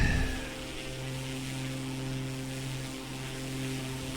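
Airplane engine in The Crew 2 racing game, a steady droning hum with a low tonal buzz, moderately loud and continuous with no talk over it.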